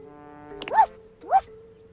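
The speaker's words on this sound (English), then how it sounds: "A strange creature that looks and sounds like a soapy little dog jumps up at your legs, yapping and barking." Sudsy, a soapy little dog-like creature in the video game Date Everything, gives two short rising yaps about half a second apart over a steady low hum.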